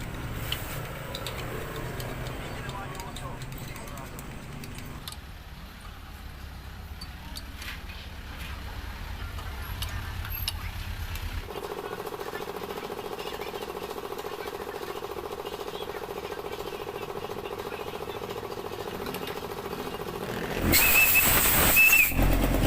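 A 1/2 thread being cut into a Raider 150 motorcycle crankcase: a long, continuous mechanical grinding drone that shifts pitch partway through and turns louder and harsher toward the end.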